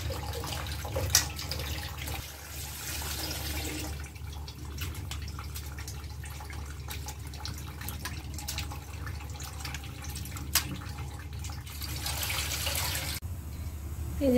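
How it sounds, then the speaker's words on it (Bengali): Vegetables and pointed gourd are washed in water, with soft splashing, trickling and dripping sounds at low volume in a home kitchen, without speech. "সব সবজিগুলো ধুয়ে নেব, পটলগুলো ধুয়ে নেব"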